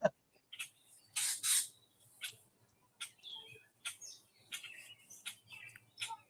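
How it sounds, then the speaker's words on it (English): Wild birds feed outdoors, giving scattered, bright chirps and tweets in short irregular bursts, fairly close and moderately loud, with quiet gaps between calls and no talking. "I got the birds are having a feast out here today."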